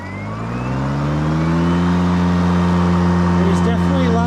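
Ryobi push lawn mower starting up and running, its motor droning in a steady loud hum that settles into an even pitch, close by, with a brief voice near the end.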